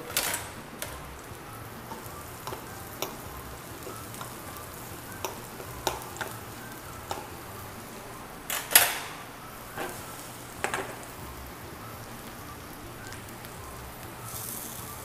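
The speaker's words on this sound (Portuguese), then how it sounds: "Vamos começar aqui refogando alho e cebola." Garlic and onion sautéing in a pan for chickpea-based vegetable meat, a steady low sizzle with scattered sharp ticks and a few louder spatula knocks, close and moderate.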